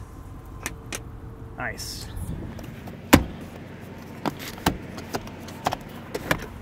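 The power-folding third-row seats of a 2022 Audi SQ7 run with a brief electric motor whine, followed by soft clicks and thumps inside the cabin. A voice speaks briefly.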